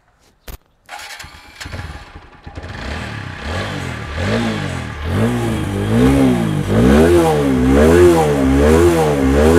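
A TVS Apache RTR 160 4V motorcycle starts with a sharp crank, then idles and revs repeatedly, its exhaust rising and falling in steady cycles that grow louder and fuller toward the end, heard close up with no talking.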